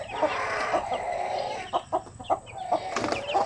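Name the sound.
hen clucking, fighting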